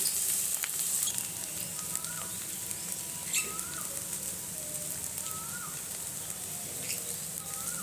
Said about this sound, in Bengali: এবারে এটা আমি দিয়ে দেবো হিঁচড়টা। আমি এটাকে ভালো করে কষে নেব।